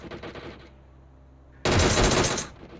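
Automatic gunfire in BGMI (Battlegrounds Mobile India), a loud, dense burst lasting nearly a second after a stretch of quieter game ambience, then fading off.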